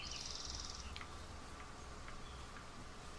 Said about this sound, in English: Good bird sounds.